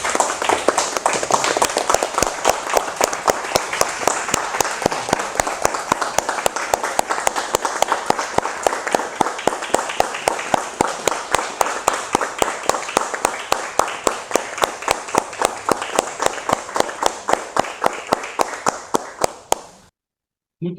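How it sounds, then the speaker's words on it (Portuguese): A room of attendees at an international polyglot meeting claps in a long, rhythmic, unison beat, sharp and evenly spaced for about twenty seconds before stopping abruptly. "gostaria de convocar todos aqui para a gente prestar uma homenagem, uma moção de aplauso para o Carlos Amaral Freire."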